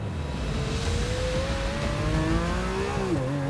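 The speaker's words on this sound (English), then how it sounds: "When you hear that noise from the exhaust, the pull of the engine" Lamborghini Aventador Huber ERA 001 with its engine and exhaust, a loud, steady high-revving roar heard continuously up close, with the pitch climbing gradually before dropping sharply near the end as the revs fall.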